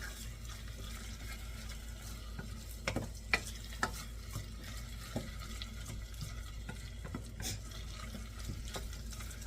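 Tomatoes are stirred in a cooking pan over a low, steady sizzle, with scattered scraping knocks of the spoon against the pan. No one speaks.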